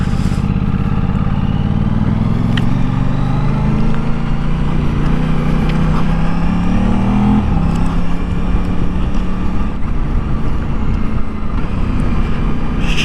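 An Aprilia RS 660 or Triumph Street Triple RS sport motorcycle revs up while being ridden, the engine pitch climbing through gears, loud and close with wind rush and no talking.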